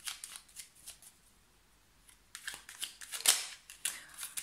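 Close, crisp riffling and snapping of tarot cards being shuffled and laid out in bursts, quieter at first, then a louder flurry with sharp slaps near the end.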